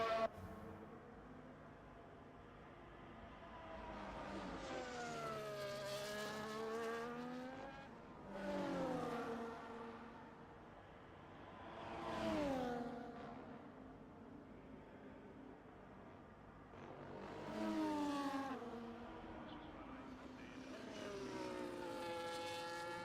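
Formula 1 race cars from the game F1 24 scream through qualifying at Imola, the engine note climbing and dropping repeatedly as it shifts through gears, loud and close without talk.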